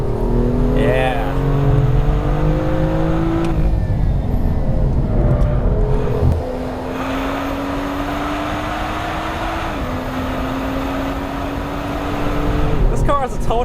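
A 2016 BMW M2 sports car on a race track, its engine loud and continuous, revving up and shifting through gears in rising and falling sweeps while a voice speaks over it.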